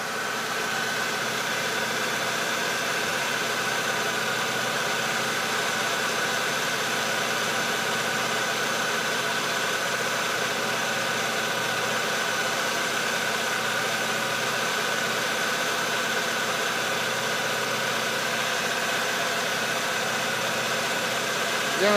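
The 2.2-litre engine of a 2002 Chevrolet Cavalier idles with a steady, even hum and faint mechanical ticking, heard close and continuous for over twenty seconds with no talking.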